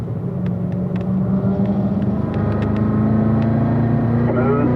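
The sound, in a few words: car engine driving around a race track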